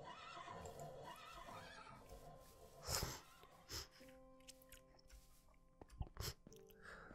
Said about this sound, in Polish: To nieźle, że zebra wydaje odgłosy konia